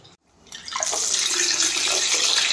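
Kanji vada batter, shaped by hand from lentil paste, drops into hot oil and sets off a loud, steady, bright sizzle that starts after a brief pause and keeps going without letting up.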